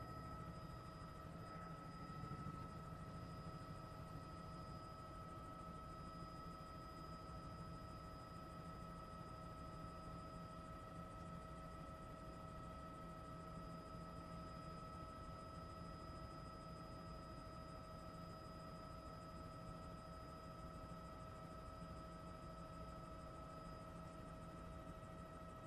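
Steady, unbroken engine and rotor drone of a news helicopter flying over storm damage at a university campus, heard from inside the cabin, loud and constant throughout with no talking.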